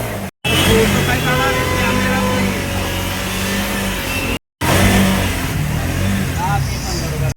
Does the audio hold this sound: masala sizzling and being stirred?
no